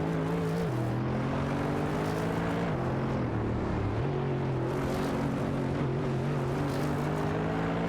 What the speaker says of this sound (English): Tight competition on the track between these drivers in their Cadillac and Audi cars.